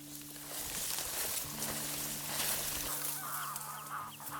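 Greylag geese honk in a close flock, overlapping nasal calls steady throughout and fairly loud, with no talking.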